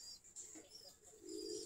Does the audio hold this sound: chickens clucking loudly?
no